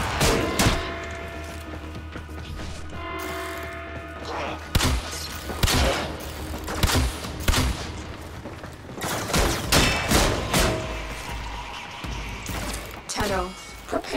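A loud explosion in a PC space game where life support is being replenished: sharp bursts and crashes scattered among game sounds, with a person talking over them.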